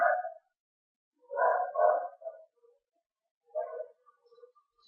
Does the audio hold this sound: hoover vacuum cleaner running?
no